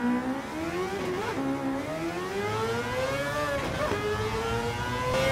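A Mazda RX-7 fitted with a 787B rotary engine swap in Gran Turismo 7, racing on track with a steady, continuous engine drone whose pitch climbs and dips through gear changes and throttle lifts, loud and close, with no talk.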